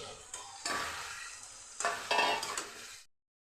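Potatoes and soybean chunks hit hot oil in a pan, sizzling with bursts of stirring and scraping. The frying swells twice, then cuts off abruptly near the end.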